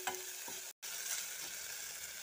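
Fish with spices sizzles steadily as it fries in a pan, a continuous close hiss with a brief gap partway through and faint stirring.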